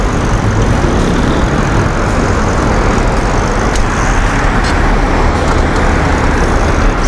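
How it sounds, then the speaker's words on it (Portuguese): Steady, loud road noise at night as a car rolls past close by, a continuous broadband rush with no speech over it. "Esperar o carro passar pra gente seguir."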